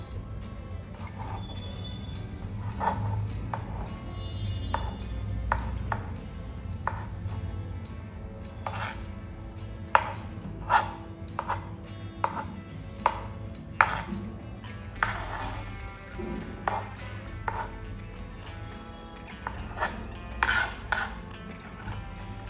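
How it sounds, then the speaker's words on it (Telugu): Knife chopping vegetarian liver into small pieces on a board, sharp uneven thuds repeating in loose bursts, near and moderately loud over a low steady background hum, no talking. "వీటిని పీసెస్గా కట్ చేసుకోవాలి"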